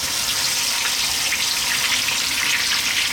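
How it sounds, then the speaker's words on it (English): A whole tilapia fries in hot sunflower oil, giving a loud, steady, dense sizzle that fills the short stretch without a break. "What we're going to do is we're going to pick our fish up and we're going to drop him in."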